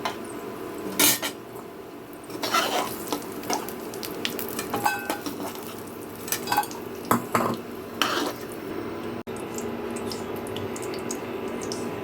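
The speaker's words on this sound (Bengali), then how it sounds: "এখন আমি এই বড়াগুলোকে তুলে নেব একটা পাত্রে" Fried lentil fritters being lifted from a pan into a bowl, with clinks and scrapes of a metal utensil against cookware over a soft background sizzle of oil, with no one talking.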